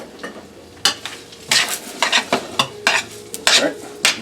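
Pasta stirred in a pan after cooking salmon, with repeated scraping, clattering strokes of a utensil against the pan over a low sizzle, close and fairly loud, no talking.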